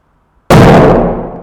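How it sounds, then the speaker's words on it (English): Pure hydrogen ignites in open air during a chemistry demonstration with a bright orange flame, giving a single loud, dull whoomp that hits abruptly and fades over about a second rather than cracking like a bang. "That was pure hydrogen burning in air"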